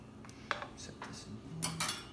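Chocolate chip cookie dough being mixed in a bowl, with a few faint scattered clinks and scrapes of a utensil against the dish at close range.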